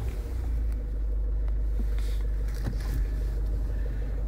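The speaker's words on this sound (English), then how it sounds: "I'll start the car up." A 2019 Ford Kuga 2.0 TDCi Titanium diesel engine idles with a steady, low, even rumble, close and continuous with no revving.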